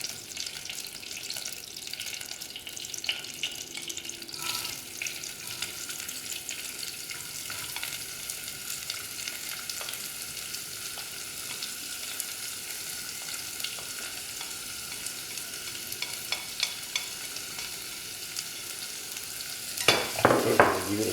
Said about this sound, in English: Okay, so give it a fry.